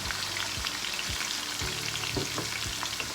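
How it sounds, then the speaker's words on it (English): Onions fry with other ingredients in a pan for Nigerian pilau rice, a continuous dense sizzle up close with several soft low thumps of stirring spaced through it. "I'm going to add my onions also in, and I'm going to let all that fry together"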